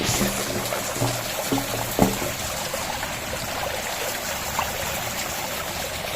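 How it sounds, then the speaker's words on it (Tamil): Rainwater rushes and gurgles steadily nearby like a fast stream during heavy rain, with a few low thumps and knocks early on, continuous and fairly loud. "பெரிய மழை பெய்யுது தண்ணி எப்படி வருது பாருங்க"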